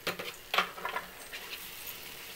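Wheat halwa with cashews stirred in a pan: soft scraping strokes of a spoon against the pan with a faint sizzle, close and quiet, with no talking.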